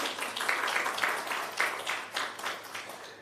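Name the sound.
conference audience applauding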